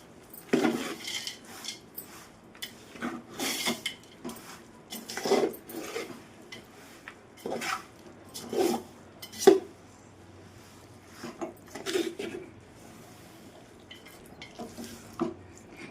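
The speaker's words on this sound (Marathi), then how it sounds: "गॅसवर व्यवस्थित मिक्स करणार आहे आपण" A peanut chikki mixture is stirred in a pan on a gas stove, heard as quiet, intermittent scraping and clinking strokes spaced a second or two apart, with near silence between.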